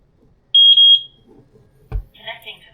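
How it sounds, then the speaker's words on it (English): Eufy S120 solar security camera giving a sync beep during Wi-Fi setup, three quick high electronic beeps close up and loud, followed by a brief thump and a short burst of voice. "Press the sync button until you hear the beep."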